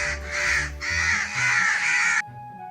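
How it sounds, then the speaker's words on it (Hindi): A crow gives several loud, harsh caws in close succession, near and clear with no other sound around them. "कौवा"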